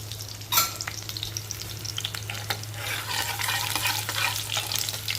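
Mustard seeds and cumin fry in hot oil with a continuous crackling sizzle and stirring sounds close by, over a low steady hum, no voices.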